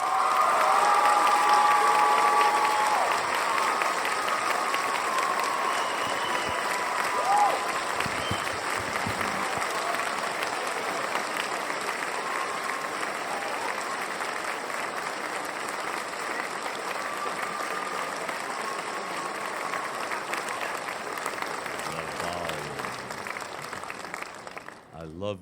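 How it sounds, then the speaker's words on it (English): A large audience gives sustained applause for speaker John Van Auken at an Earthkeeper Healer event, steady dense clapping that holds for about twenty-five seconds before tapering off at the end. "round of applause, please."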